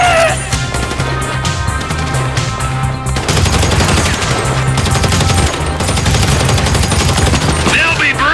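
Loud, sustained automatic gunfire in the video game GTA V, with dense rapid bursts of machine-gun shots and crashes close by, continuous throughout.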